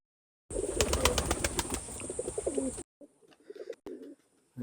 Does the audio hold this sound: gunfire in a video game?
no